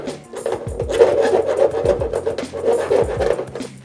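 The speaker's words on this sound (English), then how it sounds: "just start drilling some holes on the perimeter." A power drill whines and grinds steadily, drilling holes in a Ford van roof, with repeated rhythmic chattering and scraping, close and fairly loud.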